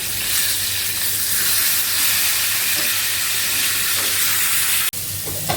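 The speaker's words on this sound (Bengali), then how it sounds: "এই আলুগুলাও ভেজে নিচ্ছি আর মাছ লাল লাল করে ভেজে রাখছি ভালো করে" Potatoes and fish frying in hot oil give a steady, loud sizzle and hiss throughout, with a brief clatter near the end.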